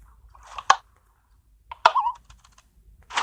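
Sharp clicks and clunks from a Minecraft piston computer being switched on in a piston house, a few separated mechanical pops with short tails and quiet gaps between.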